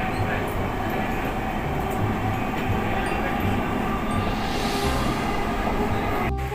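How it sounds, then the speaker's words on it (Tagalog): Dubai Metro train at a station, a loud steady rumble and hiss of the rolling carriages filling the whole clip without letup, heard close from the platform. "Nag-aantay tayo ng train, biyaheng Itisalat."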